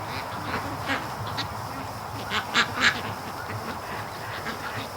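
Muscovy ducks at a lake giving a few short quacks at a moderate distance, scattered over steady outdoor background noise, with a brief cluster of calls midway.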